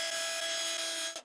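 A drill boring into walnut hardwood on a table saw jig, a steady high whine with a rough grinding edge for about a second before it cuts off, close and alone.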